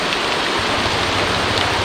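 Light, steady rain falls in a rainforest camp near a river, a continuous broadband patter that stays even and fairly loud throughout with no voices.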